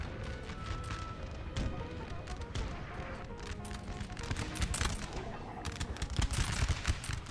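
Musket volleys in Napoleon Total War, Prussian campaign battle, crackling in ragged bursts of many overlapping shots, fairly quiet overall and growing heavier toward the end.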